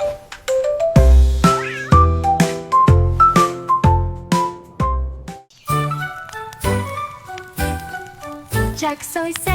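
A cat meows in a French children's nursery song, with repeated bright, pitched meows in a steady rhythmic pattern over a musical accompaniment.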